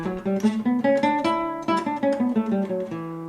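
A scale played one note at a time starting from its second step, climbing and then descending in a steady, even rhythm on a melodic instrument, with no voices.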